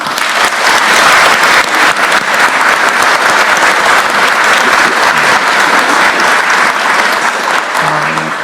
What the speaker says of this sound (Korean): 우리 노동부 장관님과 직원들 위해서 박수 한번 하겠습니다.